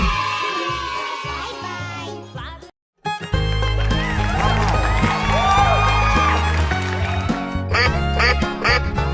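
Loud, repeated quacking, cartoonish and toy-like, sounds amid busy music-like tones and effects, with a brief drop to silence partway through.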